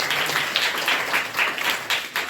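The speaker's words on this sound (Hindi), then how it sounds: "अरे ताली बजा सकते हैं" A church congregation claps together in a rhythmic, fairly loud burst of applause that holds steady throughout.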